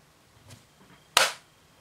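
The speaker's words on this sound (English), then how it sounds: "No one will high-five me, so I'll do it myself." A single sharp hand slap, a self high-five, cracks out loud and close after a brief soft rustle, then quiet.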